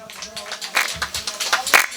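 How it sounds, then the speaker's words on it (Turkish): Audience applause for Yunus Çınar at a lively soldier's send-off night party, a short burst of scattered hand claps with a few sharper peaks, mixed with voices talking over them. "Evet, Yunus Çınar'a da bir alkış alalım."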